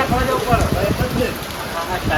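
Steady rain pours down during a monsoon downpour, a dense continuous hiss with heavy drops spattering a surface nearby, filling the short stretch evenly at moderate loudness.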